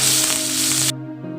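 Asafoetida, curry leaves and five crushed garlic cloves hit hot oil for a Tamil elephant yam mash, giving a loud, steady, close sizzle that stops abruptly after about a second, leaving only a low hum.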